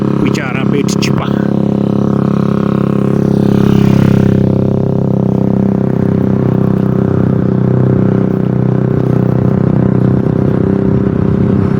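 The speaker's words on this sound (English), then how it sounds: "Most of them, they are the Chinese made motorcycles, which are a bit cheaper." A cheap Chinese-made motorcycle rides along village roads in Kenya near the Ndakaini Dam, a steady loud engine drone with a brief rattle early on, under someone talking.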